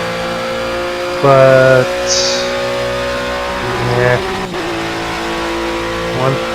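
A project car's engine, its exhaust throwing flames out the back, revs in three short, loud bursts heard from outside the car between stretches of a quieter idle, while someone talks over the pauses.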